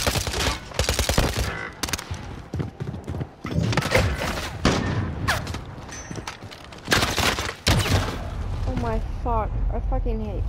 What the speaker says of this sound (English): How does he have a shotgun?